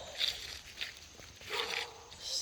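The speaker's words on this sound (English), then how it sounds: "Hear Kinsley back over there barking" Outdoors, a dog barks a few times somewhere in the distance, faint and scattered, with light rustling nearby.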